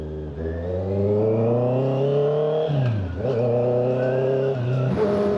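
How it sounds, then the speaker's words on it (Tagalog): Traffic heard while riding a Honda CB650R motorcycle during rush hour near Sto. Tomas, Batangas: a close, loud engine drone rising and falling in pitch with gear changes, continuous and with no talk. "grabe rin pala traffic dito"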